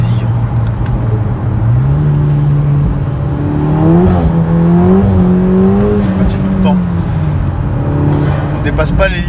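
A car pulling away hard on a slightly damp surface, its engine revving up in rising strained sweeps as the wheels spin, loud and close, with a voice speaking over it.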